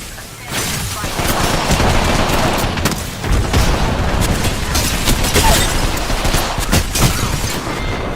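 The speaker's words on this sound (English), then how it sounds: "Opening fire." Dense, continuous gunfire in the video game Apex Legends, rapid close bursts and shots layered over each other with booms, loud throughout, with a voice faintly mixed in.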